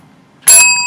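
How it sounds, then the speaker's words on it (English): A single bright bicycle bell ding rings out close and loud after a quiet moment, its metallic tone lingering and sustaining to the end. "I got bells."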